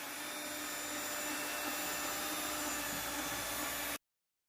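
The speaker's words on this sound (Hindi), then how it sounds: "इसीलिए मशीन से हम इसको कर रहे हैं मिक्स" An electric hand mixer whirs steadily through chocolate and vanilla cake batter, a continuous motor drone that runs unbroken for about four seconds before cutting off abruptly.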